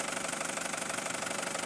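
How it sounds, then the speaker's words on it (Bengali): A Tata Xenon pickup truck engine idles steadily with a rapid, even knocking rhythm, close and continuous, with no voices. "এবার আপনাদেরকে একটু ইঞ্জিন সাউন্ডটা দেখাবো"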